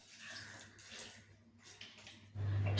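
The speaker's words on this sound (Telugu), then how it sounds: "వాటర్ అయితే టమాటాలు మునిగేంత వరకు వేసుకోవాలి" Water pours steadily into a cooking pot of tomatoes, a soft continuous splashing rush that grows louder and fuller near the end, with no talking.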